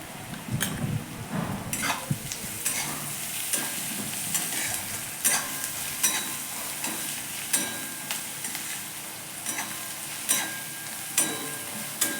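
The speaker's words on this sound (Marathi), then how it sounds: "कांदा मस्त असं सोनेरी रंग येईपर्यंत परतून घ्या।" Onions frying in a pan for masala bhindi, a continuous sizzle broken by regular spatula scrapes and taps against the pan, close and moderately loud throughout.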